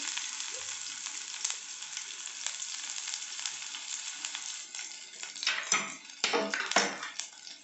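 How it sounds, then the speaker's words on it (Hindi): Finely chopped onion fries in a pan for jackfruit chilli, a soft steady sizzle that stays fairly quiet, then a few louder clattering stirs and utensil knocks near the end. "गोल्डन ब्राउन होने तक फ्राई कर लूँगी।"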